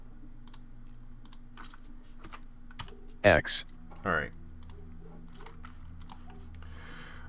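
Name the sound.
typing on a computer keyboard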